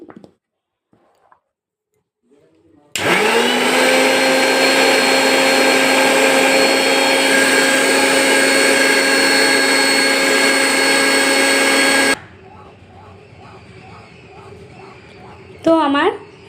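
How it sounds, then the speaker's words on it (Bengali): A mixer grinder blends watermelon into juice: a loud, steady motor whine starts abruptly, holds for about nine seconds, then cuts off, leaving quieter clinks and rustles. "আমি তাই মিক্সার গ্রাইন্ডারে এটাকে পেস্ট করে নিচ্ছি।"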